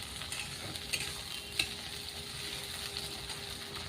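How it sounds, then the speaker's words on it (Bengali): Onion and tomato frying in a pan, a continuous soft sizzle with a few light stirring knocks and scrapes, close and low in level, no speech. "দিয়ে পেঁয়াজ আর টমেটোটাকে ভালো করে ফ্রাই করবো"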